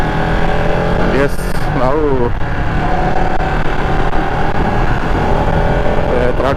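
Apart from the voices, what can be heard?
Ducati Panigale 959 superbike engine revving in race mode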